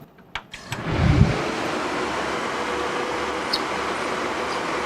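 A 111-teraflop Linux computer runs with a steady, loud broadband whoosh of cooling fans, swelling after a few opening clicks and holding constant throughout with no talking.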